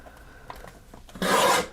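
Paper trimmer slicing through green cardstock, a brief quiet slide and then a short, loud rasping cut, close and alone.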